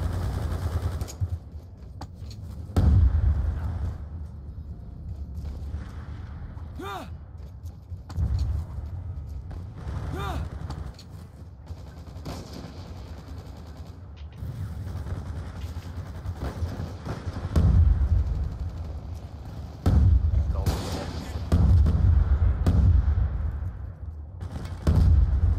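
Bursts of gunfire in the multiplayer shooter Call of Duty: Black Ops II, rapid shots and heavier impacts recurring through a busy, continuous game soundscape, loud at intervals with no talk.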